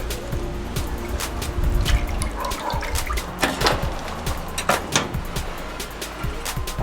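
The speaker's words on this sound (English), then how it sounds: "1 cup of apple cider vinegar. Wooden spoon to mix it up." A wooden spoon stirs apple cider vinegar into a mop mixture for barbecue brisket, making close sloshing, dripping liquid sounds with irregular knocks and splashes throughout, no talking heard.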